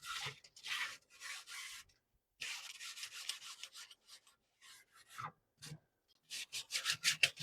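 Mould is scrubbed off the ceramic dome of a kamado grill in bursts of close, rhythmic brushing and rubbing strokes, with short pauses between rounds and no talk.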